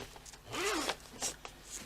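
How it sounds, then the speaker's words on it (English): A zip on a fabric tote bag is drawn open in one smooth, close, quiet pull, followed by light rubbing and handling of the material. "once you open your zip"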